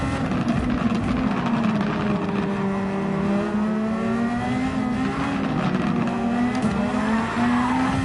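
A Superformula race car in a racing video game at the Nurburgring, a close, steady engine drone with squealing tyres and a skid through a collision, loud and continuous with no gaps.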